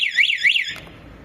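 A quad bike's remote alarm gives a loud electronic warbling chirp, rising and falling twice in quick succession before cutting off abruptly.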